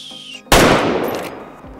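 A single loud gunshot from a hunting video game cracks after a brief quiet stretch of faint electronic tones, its blast decaying over about a second.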